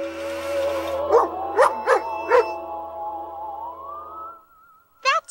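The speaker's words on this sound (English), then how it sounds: "That's just a dog in a spacesuit." A dog in a spacesuit in a comedic sci-fi show gives a few short bark-like yips close up over a steady droning score, followed by a rising tone and a final burst.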